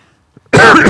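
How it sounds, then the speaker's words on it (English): A single loud, harsh cough bursts out after half a second of near silence, close to the microphone and filling the rest of the moment. "I'm so sorry for the coughing"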